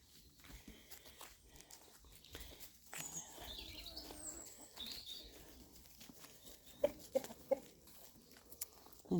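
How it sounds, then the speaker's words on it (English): Backyard hen clucking softly among other farmyard birds, soft intermittent clucks with scattered footsteps and rustling, a few sharper calls near the end. "There's the other hen."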